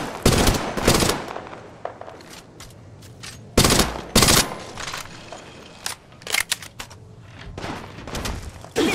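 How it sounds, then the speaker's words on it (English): Gunfire in the mobile game Apex Legends Mobile: sharp bursts of automatic shots and loud single cracks come in several clusters over a steady game background, some volleys close and heavy, others quieter. "I'm spotted, taking fire."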